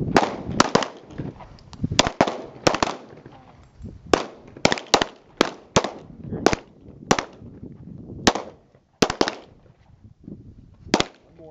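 Gunshots fired during a range qualification, sharp loud cracks arriving singly and in quick irregular bursts, some spaced a second apart, with faint voices and echoing between shots.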